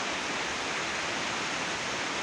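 Water pours through grates into a hydropower tunnel at a Swat powerhouse intake, a dense, steady rushing roar that fills the clip evenly without pause or other sounds.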